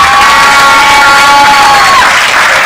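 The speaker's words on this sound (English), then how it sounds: "please give a round of applause to our leader of the opposition and party president" A crowd at a political town hall forum roars with cheering, whooping and applause for the opposition leader and party president, a loud, continuous wall of voices and clapping with a tonal hum running through it.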